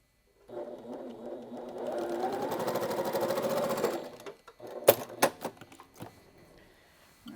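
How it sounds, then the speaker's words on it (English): A sewing machine stitches a long seam along quilt triangles in a steady close whirring run of about three seconds, followed by a few sharp clicks and clatters as the fabric is handled. "We are just going to put those right sides together and stitch this long angle along the triangle."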